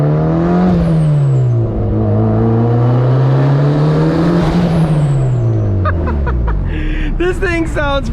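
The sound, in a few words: 400 hp turbocharged Mazda Miata engine driving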